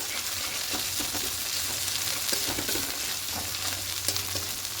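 Cumin powder being stirred into a frying mixture in a pan for an egg curry, a steady close sizzle with soft scraping strokes of the spoon, unbroken and without talk.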